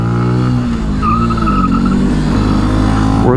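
A 2018 Benelli TNT 135 motorcycle races around a parking lot, its engine droning loudly with shifting pitch as it revs and a tire squeal rising at the end.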